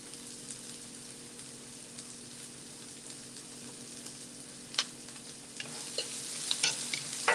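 Onions frying in a pan for a bean and veggie burrito filling, a faint low sizzle under a steady hum, with a few sharper stirring scrapes growing busier toward the end.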